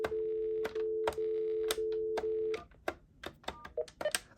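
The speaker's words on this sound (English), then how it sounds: "So this actually dials more like the newer phones do." An AT&T 821 telephone plays a run of steady dual-tone dialing beeps, evenly spaced and clear, then gives way to a quicker scatter of short, uneven tones and clicks, with no one talking.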